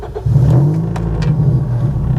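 A 2005 Toyota Vios G facelift catches and fires up, its engine settling into a loud, steady mid-pitched idle hum close by, with no talking over it.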